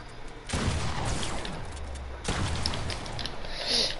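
Desert Eagle fire in a shooter video game, two loud booming bursts with a dense rattling tail, each swelling to full loudness and lingering.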